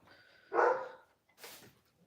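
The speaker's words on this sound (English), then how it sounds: "I don't know what she's barking at." A dog barks at another dog being walked past outside, giving two short indoor barks about a second apart, the first loud and the second softer, with quiet room tone around them.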